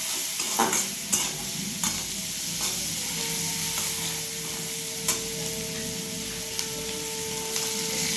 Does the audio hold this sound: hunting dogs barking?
no